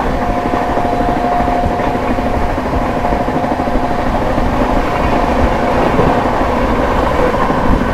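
A Prayagraj–New Delhi Humsafar Express runs flat out at 130 km/h through Phaphund station without stopping, heard as a loud, steady, dense rail rumble with wheel-on-track clatter throughout and a faint high whine.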